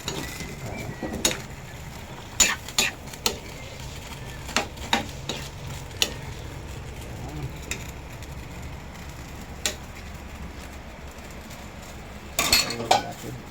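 Pork humba, a Filipino braised dish, is stirred in a cooking pot. A quiet simmering bubble runs under scattered spoon knocks and scrapes against the pot, with a louder clatter near the end and no talk.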